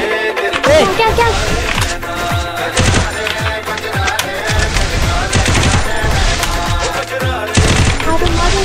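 Gunfire in Garena Free Fire Max, with repeated sharp shots and automatic bursts layered over dense, loud game sound and music throughout.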